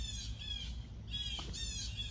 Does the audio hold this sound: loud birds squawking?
yes